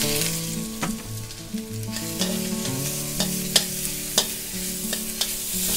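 Pork stir-fried in a pan with a little oil and salt, a steady sizzle running throughout with sharp scraping clicks of the utensil against the pan and a low tonal hum in the background.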